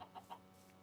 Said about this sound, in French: Ils vont attaquer le poulet?